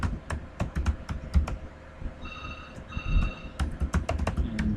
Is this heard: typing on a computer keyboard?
yes